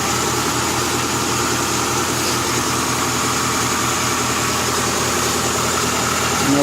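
A car engine idles steadily at first start-up after an engine swap, a constant close, loud, rhythmic low throb with mechanical hum and no talking.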